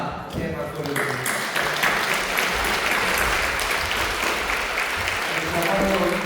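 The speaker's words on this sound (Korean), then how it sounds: "다시 한번 영광 받으신 하나님께 그리고 감사의 박수를 드립니다." Church congregation at a Friday night prayer service applauds after a worship team's special song, a dense, continuous wash of clapping from many hands, fairly loud and steady throughout.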